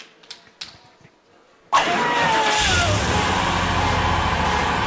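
Show jingle built on a car engine starting: a few soft taps, then a sudden crank and catch into a loud steady running engine that continues close and strong to the end.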